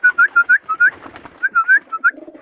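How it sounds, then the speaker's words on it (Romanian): Pigeons coo and flutter close by in a quick series of soft, throaty calls, with brief pauses between bursts. "Vedeți, porumbei vin pe mână."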